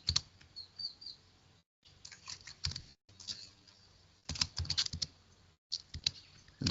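Keys clack on a computer keyboard as a command is entered in data software. Irregular bursts of close, crisp clicks are split by short pauses, with no talking.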